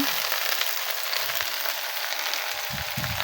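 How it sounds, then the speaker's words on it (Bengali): Okra fries in a pan with a dense, steady close-up sizzle, broken by a few soft low bumps of stirring or handling; nobody speaks. "এখন ঢেঁড়সগুলো ঢেঁড়স ভাজি করবো।"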